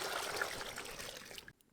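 Water pours and splashes steadily onto mutton liver in a pot, a close, hissing trickle that stops abruptly at the end.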